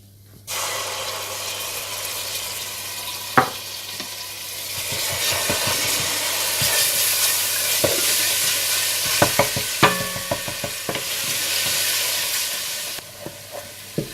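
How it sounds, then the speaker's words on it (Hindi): Steady hot sizzling of ginger and garlic frying in ghee for Kashmiri gushtaba, with occasional sharp clinks of a spoon against the pan. "इसमें अदरक लहसुन डालकर भून लें।"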